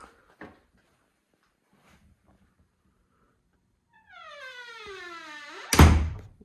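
A door on a door closer swings slowly shut, giving a long rising squeak that ends in a loud, close latching thunk. Faint taps and quiet handling come first, and nobody speaks.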